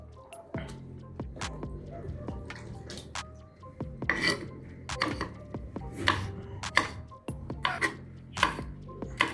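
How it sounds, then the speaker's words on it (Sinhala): Young okra pods being sliced with a knife on a cutting board, a series of crisp, close chopping taps at an uneven pace, each with a short wet squish. "ඊට පස්සේ හොදලා ඉවරට අපි මෙන්න මේ විදිහට බණ්ඩක්කා කපනවා."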